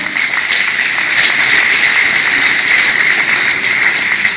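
Carnival crowd applauding the youth prince at a children's carnival session, a dense, even wash of clapping that holds steady from start to finish.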